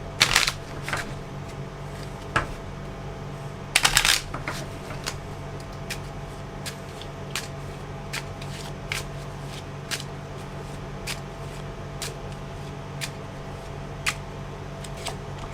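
Tarot cards shuffled by hand in quick riffling bursts, with a dense flurry near the start and around four seconds and lighter ticks and snaps spread evenly through the rest, close and fairly quiet against a steady low room hum.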